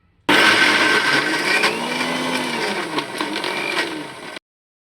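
A kitchen mixer grinder whirs loudly, grinding soaked chana dal with ginger, green chili, garlic and fennel seeds. It starts abruptly and runs as a steady near whine with rattling, then cuts off sharply.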